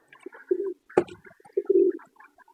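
A large pigeon of about 800 grams, kept in a cage, gives low throaty coos in two short bursts, fairly close and clear with no talking.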